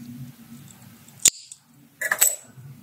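Scissors cut brown knitting yarn on a baby bootee, giving two sharp close snips about a second apart against a quiet background.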